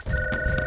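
A telephone rings with a steady electronic two-tone trill, short and moderately loud, a sustained ringing tone over a low background rumble.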